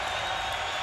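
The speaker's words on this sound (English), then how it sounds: "And the crowd is into this game." A basketball arena crowd at the Big Sky men's championship game between Idaho and Montana in Boise makes a steady, dense roar of cheering and applause, with no break in the sound.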